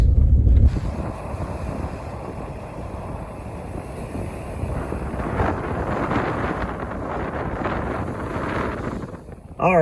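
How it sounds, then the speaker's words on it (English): Steady wind buffeting the microphone outdoors at Lake Mohave, a continuous low rumble with a faint voice briefly underneath. "it's already windy at Mohave"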